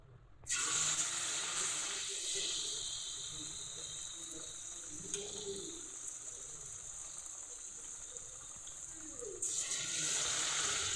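Nendran plantain frying in hot oil in a kadai, a steady bright sizzle and hiss that starts abruptly, holds throughout and swells again near the end.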